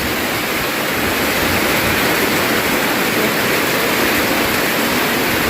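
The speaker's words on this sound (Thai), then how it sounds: "น้ำไหลทาง" Rainwater rushes steadily and loudly along a road, a continuous broadband roar of heavy runoff streaming along the surface, with no pauses.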